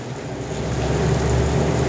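Steady rain pours down, a dense continuous hiss with a low rumbling undertone, no voices present.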